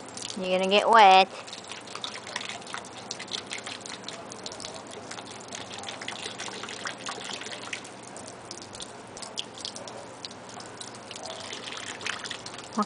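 Water drips and trickles close by during a toddler's water play, with a short louder splash at the start and then a steady soft patter, while adults and someone talk over it.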